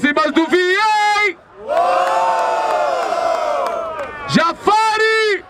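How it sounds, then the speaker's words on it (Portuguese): A loud crowd at a rap battle cheers and shouts in a sustained roar between bursts of an amplified MC voice, with people talking before and after the cheer. "Barulho para as rimas do Vien"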